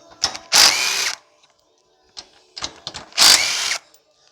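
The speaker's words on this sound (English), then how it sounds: "we're going to take the 10 millimeter bolts out to just get the hood latch out of the way" A ratchet or power tool loosens the 10 mm hood latch nuts on a 2008 GMC Acadia in two short loud bursts with small clicks and clinks between them, close up and with no talking.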